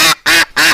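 A hen duck gives three loud, harsh quacks close by, each burst rough and raspy with short gaps between them.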